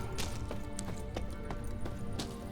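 Kelpie, a horse in The Witcher 3 video game, gallops with a steady, rhythmic clip-clop of hooves over a constant low ambient bed, moderately close.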